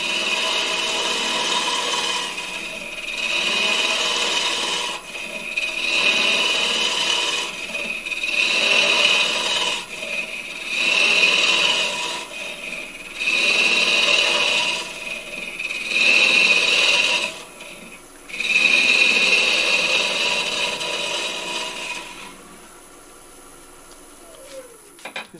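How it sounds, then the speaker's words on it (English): Wood lathe hollowing a thin-walled turning with a Simon Oak Pro carbide tool, a steady hum under repeated scraping cuts in rhythmic passes, pausing briefly before the lathe winds down near the end. "This is the Simon Oak Pro Carbide tool. My favoured hollowing tool."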